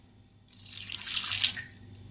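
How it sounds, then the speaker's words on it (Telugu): Water pours briefly into a pressure cooker holding carrots, a short splashing rush that swells and fades over about a second in an otherwise quiet room. "కొంచెమే వాటర్ వేసుకోవాలండి,"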